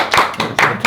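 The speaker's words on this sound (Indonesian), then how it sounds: "Oke, tepuk tangan." A brief burst of a few hand claps, quick and close, like a small group applauding.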